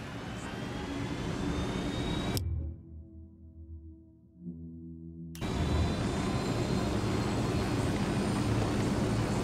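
A plane's engine drones steadily as the player flies it in a video game, a broad continuous hum that drops away to a low murmur for a few seconds before returning at full strength.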